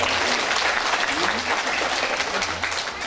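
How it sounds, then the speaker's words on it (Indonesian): A theatre audience at a Balinese Drama Gong performance claps steadily throughout, a dense, continuous wash of applause. "Tepuk tangan nunggu kita nih."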